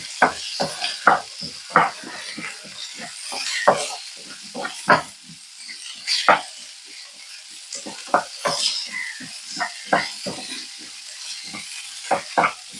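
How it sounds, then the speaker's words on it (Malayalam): Potato stir-fry seasoned with salt, Kashmiri chilli and turmeric is stirred in a pan, producing repeated sharp scraping and tapping strokes in an uneven rhythm over a low sizzle, nearby and without talk. "ഉപ്പ്, കാശ്മീരി ചില്ലി പൗഡർ, മഞ്ഞൾപ്പൊടി. നന്നായി ഇളക്കി കൊടുക്കാം."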